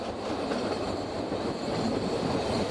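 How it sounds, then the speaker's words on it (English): A diesel-hauled narrow gauge train departing Zittau rumbles steadily along the rails with a faint clickety-clack of wheels, heard close and continuous from an open carriage, with no voices. "Departure in the open carriage of the diesel-hauled 8:47 train from Zittau."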